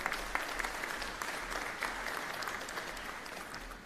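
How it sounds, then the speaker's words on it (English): A graduation ceremony audience claps for the graduates, a steady, even patter of many hands sustained throughout, moderately faint and without voices. "A big round of applause to the graduates,"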